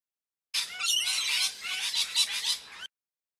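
Parrots give harsh, raspy, squawking calls in one dense burst of about two seconds that starts and stops abruptly, with no voices over it.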